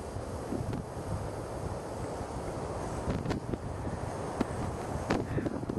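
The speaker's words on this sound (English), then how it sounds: "Wind's kicking up a little bit, breeze is perfect." Wind gusting steadily on the exposed Angel's Landing trail in Zion National Park, a continuous broadband rush with occasional louder buffets against the microphone, no talking.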